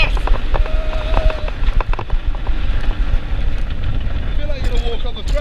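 The Kraken roller coaster at SeaWorld Orlando rattles along its track, with a continuous rumbling, clattering roar and strong wind noise across the microphone, and rider voices occasionally breaking through.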